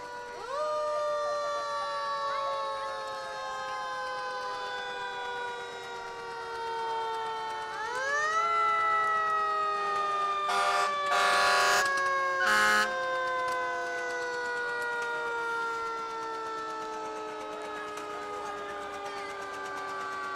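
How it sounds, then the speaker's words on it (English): Several Riverton Fire Department fire engines sound wailing sirens in a 2022 homecoming parade, rising and falling pitches overlapping throughout, with short loud horn blasts around the middle, fairly close and steady. "Next up, several engines from our very own Riverton Fire Department."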